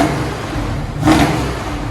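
A 1969 Chevy Camaro Z/28 with true dual Flowmaster Flow FX exhaust idles with a low, steady rumble, then gives one short, sharp blip of revs partway through before settling back down.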